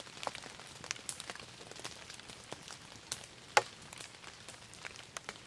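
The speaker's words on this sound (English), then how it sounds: "Does it sound like it's starting to rain again?" Rain beginning to fall at a camp, with light, scattered drops tapping in an irregular patter, faint and close, over a quiet outdoor background.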